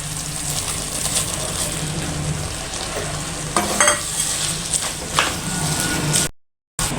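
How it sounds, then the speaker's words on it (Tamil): Fried soya chunks go into sizzling gravy, where the oil has separated in the pan. A steady frying hiss runs throughout, with stirring scrapes and clatter around the middle, then a brief cut to silence. "இந்த நேரத்தில் நம்ம வறுத்து வச்சுருக்க மீல் மேக்கரை போட்டுருவோம்."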